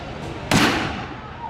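A pirate ship cannon fires on a Disney theme park ride, one sudden loud boom with a long, rumbling, noisy decay that fills the space.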